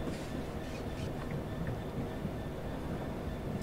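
Train wheels rolling over track in Train Sim World 3 on the Southeastern High Speed line near Dartford, heard as a continuous low rumble with faint rhythmic clatter at a steady, moderate level.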